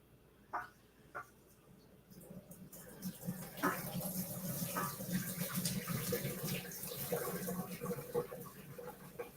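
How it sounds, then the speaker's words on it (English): Boiled potatoes are poured from a pot with plastic-trimmed edges, hot water rushing and splashing steadily into a sink after a few faint clicks, fairly quiet and continuous, with a kitchen background. "Let's play drain the taters."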